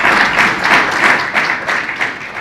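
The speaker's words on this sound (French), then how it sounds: "Merci d'applaudir pour lui, s'il vous plaît." At a JCI term launch ceremony, an audience gives a short, close round of applause that comes in loose rhythmic waves, with no speech over it.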